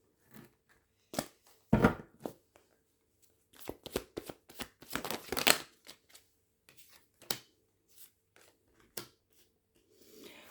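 A deck of tarot cards is shuffled by hand during a reading, with scattered crisp riffles and soft slaps in irregular bursts, quiet and close, with no talking.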